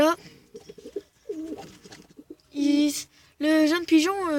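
A young pigeon cooing in soft warbling calls that grow into two louder, sustained coos near the end, heard up close.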